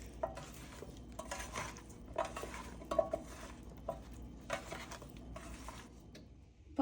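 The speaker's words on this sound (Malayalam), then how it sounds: "ഇനി ഇതിനെ നല്ലപോലെ മിക്സ് ചെയ്ത് നമുക്കൊരു 30 മിനിറ്റ്സ് എങ്കിലും മാറ്റി വെക്കാം" Prawns for chemmeen fry being mixed with marinade in a bowl, giving a series of soft, close scraping and clinking stirs that repeat about once a second, with faint handling noise between and no talk.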